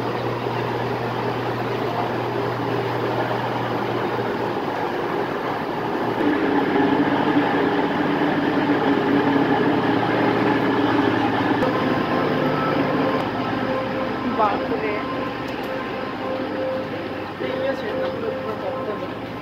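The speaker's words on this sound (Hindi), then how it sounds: "ये है बर्मिंघम का स्टेशन, काफ़ी बड़ा है लेस्टर से" Birmingham railway station with trains, a broad steady rumble and hiss of rail noise filling a large hall, with someone talking over it throughout.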